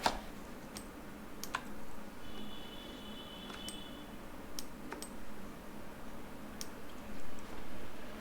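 Typing on a computer keyboard, with scattered soft key clicks against a quiet room hum, faint and close, without talk.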